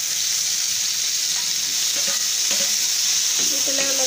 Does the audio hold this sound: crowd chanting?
no